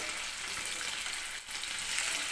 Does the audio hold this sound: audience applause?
no